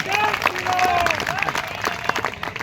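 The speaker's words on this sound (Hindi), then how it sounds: "एक बार जोरदार तालियां बजाकर मुझे आशीष दीजिए।" An audience at a poetry recital (kavi sammelan) in Kanpur claps loudly for a few seconds, dense applause mixed with voices and a sustained tone.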